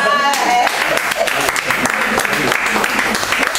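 A church congregation claps together in acclaim, a dense, lively round of applause filling the room for several seconds, with voices mixed in beneath it.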